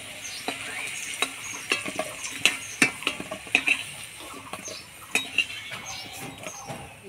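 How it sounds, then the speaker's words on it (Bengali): Potatoes for a chicken curry frying in hot oil, a steady sizzle broken by sharp scrapes and clinks of a metal spatula against the pan, fairly close with no talking. "মাংসের আলুটা ভালো করে ভাজে নিলাম, এবার তুলে নিব।"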